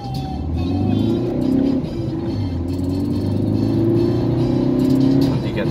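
A car on the road goes by and brakes hard, its engine drone steady and fairly loud across several seconds as a steady rumble, with people talking over it.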